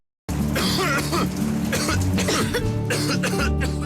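Harsh, repeated coughing and throat clearing fill a television cough medicine advertisement, the loud bursts coming close together and close up after a brief silent start.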